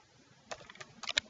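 Light, quick keystrokes on a computer keyboard, a short burst of faint clicks at close range in a quiet room.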